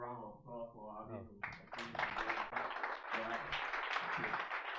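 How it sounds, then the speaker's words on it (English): Audience applause at a tech meetup, a steady crowd of clapping that swells after a brief spoken introduction and continues at moderate loudness through the rest of the moment. "So, one more round of applause for Arvind."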